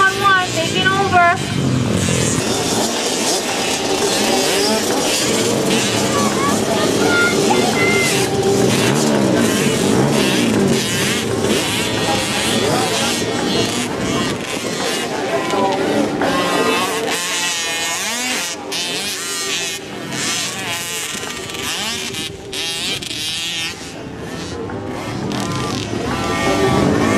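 Modified 50cc pee-wee dirt bikes race in a motocross event for six-year-olds at Hilo, their small engines whining and revving continuously, loud and sustained, while an announcer talks over the racket.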